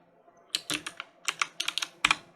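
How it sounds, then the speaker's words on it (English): Rapid keystrokes on a computer keyboard, a quick uneven burst of close, crisp clicks and taps, entering text while working in motion graphics software, with no voices. "In here I'm gonna type out set"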